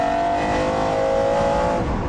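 A 627-horsepower sports car accelerates hard, its engine a loud, sustained roar with a rising whine, close and steady throughout with no voices.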